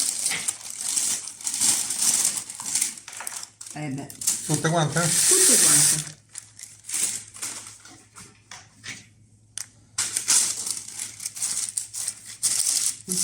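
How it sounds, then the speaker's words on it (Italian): Toasted hazelnuts tumble into a bowl of Nutella-style chocolate mixture for chocolate torrone, a loud clattering rush lasting a couple of seconds amid kitchen handling noise, with brief talk before and after. "Metto anche le nocciole tostate,"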